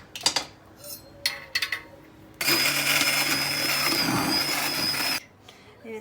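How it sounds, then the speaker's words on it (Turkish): Blender pureeing softened boiled peppers with their skins for homemade pepper paste, a loud steady whirring roar lasting a few seconds after some kitchen clatter, close by. "Ben bunu iyice blenderla e, incelttim, parçaladım"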